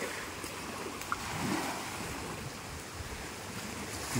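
Waves breaking at a shore at high tide in Roxas, Oriental Mindoro, a steady, moderately loud wash of surf with wind noise and no talk.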